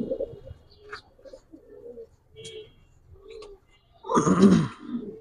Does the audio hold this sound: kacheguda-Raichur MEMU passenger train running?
no